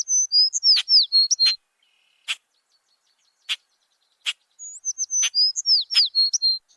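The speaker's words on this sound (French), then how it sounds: "partout, les oiseaux gazouillaient, sifflaient, piaillaient" Birds in a forest chirp, whistle and twitter in quick bursts of bright, close calls, separated by a few sharp single chips and a near-silent pause in the middle.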